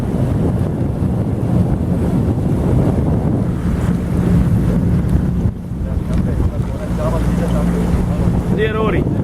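A small boat travels on the water at Vukovar toward a river island, with continuous loud wind buffeting and water rush, a steady engine hum underneath, and brief voices toward the end.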